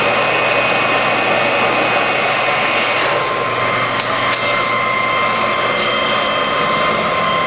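A Lodge & Shipley 24-inch by 78-inch engine lathe turns at 81 RPM with a steady, loud mechanical drone and whine. Faint clanks sound partway through, and the noise never stops.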